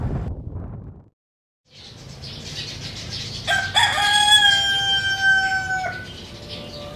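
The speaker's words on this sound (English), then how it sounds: "It's morning, as you can hear, from the roosters." Roosters crow loudly several times in a row, their long rising calls ringing over a low steady background after a short pause.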